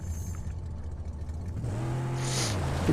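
Car engine from the Mad Max video game, a low, mid-level rumble that rises into a steadier revving hum midway through the short stretch.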